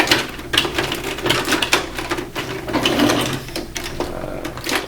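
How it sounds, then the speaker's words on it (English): Tor Shuttlezord toy rolling on its loud bottom wheels, a steady close clattering mechanical rattle with rapid ticks running throughout, no talk. "it's got really loud wheels on the bottom"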